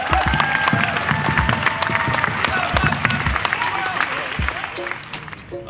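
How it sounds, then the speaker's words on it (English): An audience at a basketball talent search event claps for the finalists, dense and lively applause with a few sharp individual claps, fading toward the end, with some voices mixed in. "Please give the finalists a round of applause"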